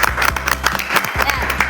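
Guests on a podcast are clapped for, a few sharp close hand claps in quick uneven bursts with voices and laughter mixed in around them.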